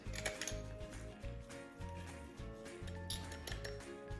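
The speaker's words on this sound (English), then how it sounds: "add in the lime juice and mix it up" Guacamole being mixed with lime juice in a bowl gives quiet, rhythmic clinks and scrapes of a utensil against the dish, repeating steadily at close range, with no talking.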